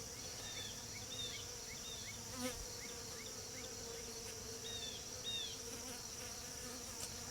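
A steady, dense buzz of honey bees in a nucleus hive during an inspection, many bees humming together up close, with faint chirps and small bumps scattered throughout.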